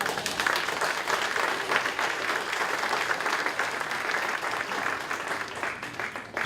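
An audience breaks into sustained applause, a dense and even patter of many hands clapping for the full stretch, with no voices on top.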